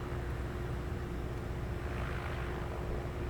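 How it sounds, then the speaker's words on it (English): An EAVision J150 agricultural spray drone flies low over a field while spraying, its rotors giving a steady, droning buzz at moderate distance without voices. "there you see the drone spraying on that first pass."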